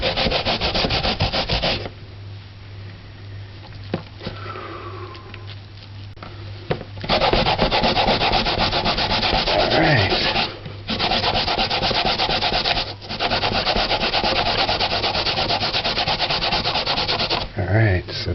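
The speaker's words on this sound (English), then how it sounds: "Just grate it down till it can't stop no more." Cassava root is grated by hand, making a loud, close, continuous rasping scrape in long sustained bursts with a few short breaks, with no talking.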